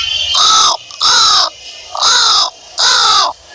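A man imitates a crow's caw, giving four loud, evenly spaced harsh calls close up, each about half a second long.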